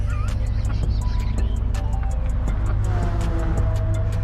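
A Chevrolet Corvette's engine in the video game GT Sport, practicing at the Maggiore circuit, drones steadily with a sustained tone and slight pitch shifts between gears, heard continuously at moderate level.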